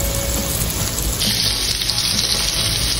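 Chicken teriyaki frying in oil sends out a loud, dense, continuous sizzle close up, with the hiss brightening partway through and no speech over it.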